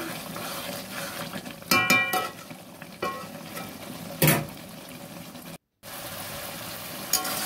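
A ginger and garlic spice paste sautés and bubbles in a pan as a spoon stirs and knocks against the metal in sharp intermittent scrapes, with a brief gap of silence.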